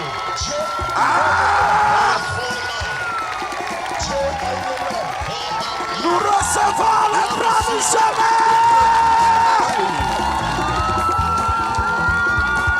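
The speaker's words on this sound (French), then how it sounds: "Put your hands together for the Lord." At an Easter church service at Evangelico Bingerville, a congregation claps and cheers in a loud, sustained roar that carries on under an amplified voice speaking and chanting throughout.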